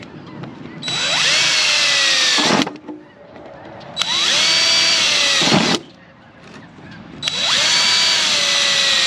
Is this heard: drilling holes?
yes